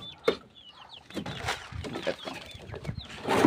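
A chicken clucks in short, scattered bursts close by in a kitchen, mixed with clatter and a brief spoken word.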